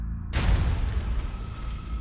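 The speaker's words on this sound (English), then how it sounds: "the bomber heard a loud bang and saw the roof of Gary's car go flying into the air" Car bomb detonating, a sudden loud boom that hits hard after a brief quiet moment and then rolls into a deep, sustained rumble with no speech.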